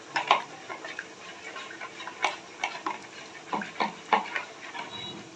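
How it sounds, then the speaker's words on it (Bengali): Spices (coriander powder, turmeric and a little salt) being mixed by hand for a chicken liver, head and feet curry, a soft irregular run of close scraping, stirring strokes in a quiet kitchen. "মশলাগুলো আমি ভালো করে মিক্সড করে নিই"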